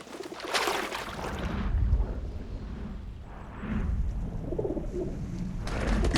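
A flock of pigeons coos in low, murmuring calls amid a rough, rustling background noise that swells and ebbs.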